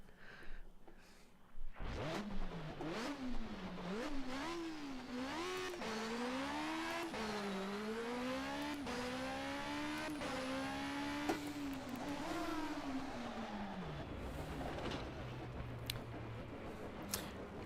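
Subaru engine in a racing game on the Goodwood hillclimb, revving and rising through the gears with a strong, wavering harmonic whine for about twelve seconds, then cutting off into quieter idle and tire noise.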